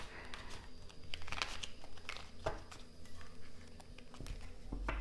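A deck of oracle cards being shuffled by hand, with soft irregular riffling, flicking and papery crinkling taps close up, fairly quiet and alone.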